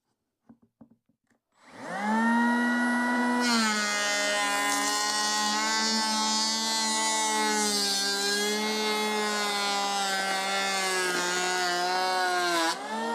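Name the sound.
Einhell TE-PL 18/82 Li cordless planer planing wood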